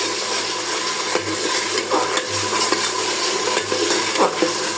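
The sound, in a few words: cumin paste frying in a pan with beef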